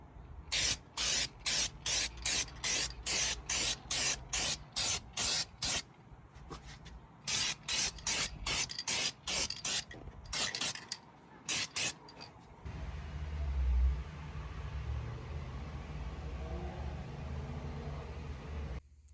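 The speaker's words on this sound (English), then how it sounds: "I'm gonna set up an area to paint it, and then let's paint it" Aerosol paint sprayed onto rebuilt Mazda RX-7 brake calipers in short repeated bursts, a close sharp hiss with brief pauses between passes, then a low rumbling handling noise toward the end.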